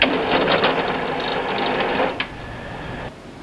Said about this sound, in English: remove the skin and grind it to a fine paste.